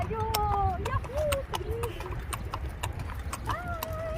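Horse hooves clip-clop steadily as the horse is ridden, with short whinnying calls and talk nearby over constant low outdoor noise.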